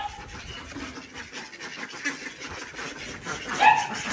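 Ducks at a mini zoo quack and chatter at feeding time on a hot day. The calls are moderately close and come in uneven bursts, loudest toward the end, with faint background noise and no clear speech.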